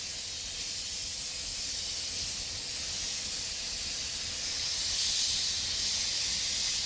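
Spray polyurethane foam roof insulation being applied, a steady broad hissing spray that holds at an even level for several seconds and swells slightly near the end, with no talk.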